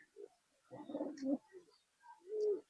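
Soft, throaty cooing from a pair of Madras pigeons in a few short bursts, fairly close, with quiet pauses between calls.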